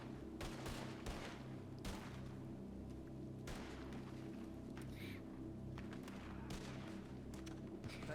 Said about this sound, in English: Taking shots from the right again